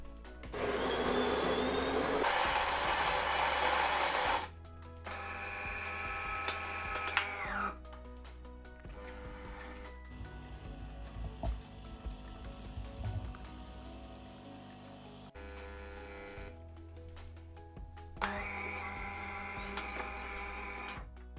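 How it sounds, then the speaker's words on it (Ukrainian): A used DeLonghi Magnifica S 22.110 bean-to-cup coffee machine brewing espresso: a loud grinder whir, then pump buzzing and hissing, clicks and a steady low hum as coffee flows, ending with another burst of pump noise. "натискаємо кнопку еспресо"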